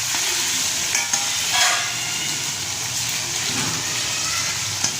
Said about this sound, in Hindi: ये भिंडी हमारी दम में पक चुकी है, नरम हो गई है। तो अब इसको हिला के